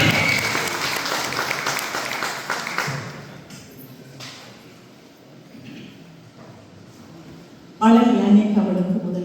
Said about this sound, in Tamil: எங்கே உங்களது பாராட்டு?